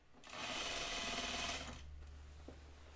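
A serger sewing machine runs a fast, steady stitching burst through a dress seam in thick fabric, close and even for about a second and a half before stopping, followed by a faint click.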